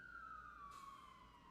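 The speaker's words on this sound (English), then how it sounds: "You can hear the sirens in my city." An emergency vehicle siren in New York City, a faint distant wail holding a steady slowly falling pitch over low city rumble.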